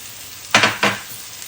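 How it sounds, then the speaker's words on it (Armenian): Two grated tomatoes land in a hot pan already holding tomato paste and sweet red pepper, giving two quick, loud bursts of sizzling close by before the sound settles to a faint hiss. "Հիմա լցնում եմ մեր 2 հատ լոլիկը քերիչով անցկացրած"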